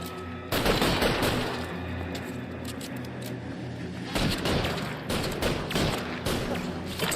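A gunfight in L.A. Noire fills the scene with dense, overlapping gunshots, loud and close, easing briefly before another heavy volley of rapid fire.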